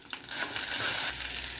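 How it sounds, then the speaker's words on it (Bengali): Ground cumin spice paste dropped into hot mustard oil in a pan over a low flame, a short, dense sizzle that swells and holds steady close up, with no talking. "অল্প সর্ষের তেল নিয়ে নিলাম, বাটা মশলাটা, জিরে বাটা মশলাটা ছেড়ে দিলাম।"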